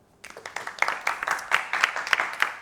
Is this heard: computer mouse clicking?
no